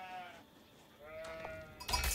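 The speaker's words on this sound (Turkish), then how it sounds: "Şurada bir koyun varmış. Alalım hemen." Sheep bleats from a sheep in the strategy game Age of Empires IV, a couple of short wavering calls over soft game ambience, followed by a louder burst of game sound at the end.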